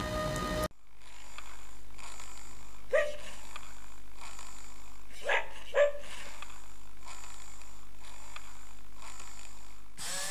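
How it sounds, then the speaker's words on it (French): A dog barks in a short excerpt about a genetically modified dog with a phosphorescent, fluorescent coat, giving about eight evenly spaced barks over a steady hum, moderately loud and with no one talking. "Cet animal a toutes les caractéristiques normales du chien, mais il a un pelage phosphorescent."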